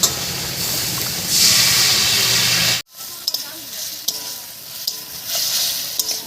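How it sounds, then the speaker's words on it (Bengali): Spice paste and water fry in a pan with a loud, steady sizzle that cuts out abruptly midway, then returns quieter with light stirring clinks and bubbling. "এবারে মশলা বাটা জল দিয়ে ভালো করে কষিয়ে নেব"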